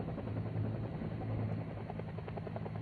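A UH-1 helicopter during tactical operations thrums steadily with a pulsing rotor beat and engine drone, continuous and fairly close throughout.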